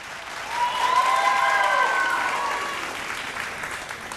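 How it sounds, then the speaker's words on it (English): Audience applause at a televised vocal competition, a swell of steady clapping rising and then slowly fading, heard at a moderate distance with a brief tonal voice or cheer over it. "Round of applause, please, for Jane from Trends."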